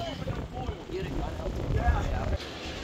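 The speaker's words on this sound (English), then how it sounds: "A lot of wind." Strong wind buffets the microphone outdoors at a beach cruise stop, a continuous rumbling gusty roar with low thumps, and a voice briefly mixed in.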